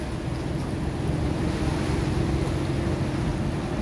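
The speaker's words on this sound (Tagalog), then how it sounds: "Lakas ng alon." Strong waves surge against the public pier at Sai Kung, Hong Kong, heard in rainy weather as a steady, loud, broadband roar of churning water mixed with wind buffeting the microphone, with no voices.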